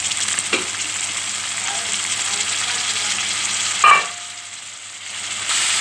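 Uggani bajji mixture frying and being stirred in a pan, a steady close sizzle running throughout with occasional scrapes of the spoon.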